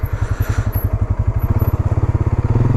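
A Polaris Sportsman 570 EPS ATV with Öhlins suspension thuds along on a slow off-road descent. Its engine gives a loud, close, even single-cylinder pulse that quickens slightly as throttle is added, with no talking.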